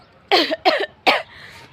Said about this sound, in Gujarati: એમાં ઉધરસ આવી ગઈ ગળું ઉકાઈ ગયું